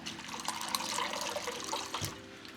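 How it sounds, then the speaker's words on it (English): Water runs into a bowl holding a bit of ice in a home kitchen, a close, steady splashing pour lasting the whole moment without speech. "I'm just going to put some water in this bowl with a bit of ice."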